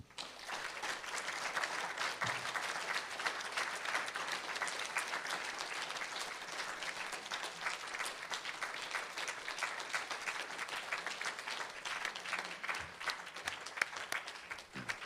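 An audience at a faculty reading bursts into sustained applause, dense clapping from a sizable crowd that holds steady throughout, with a few scattered sounds underneath.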